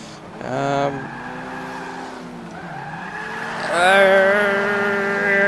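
A racing car in the Forza 5 video game revs loudly with rising and falling engine tones, then gives a sustained squeal of tires as it skids, with the engine climbing again near the end.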